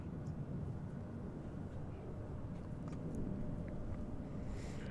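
Jet airliners taking off at DFW Airport make a steady, broad, distant roar that holds evenly throughout, with faint wind and outdoor background noise.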